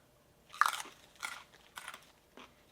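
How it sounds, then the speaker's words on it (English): Raw carrots crunched in four distinct bites, about half a second apart, loud and close against a quiet room. "I'm literally gonna just eat a handful of carrots."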